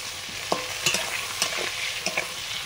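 Eggplant pieces lightly frying in a pan, stirred with a utensil, giving a steady soft sizzle broken by several sharp scraping clinks and stirring knocks, close by with no voices.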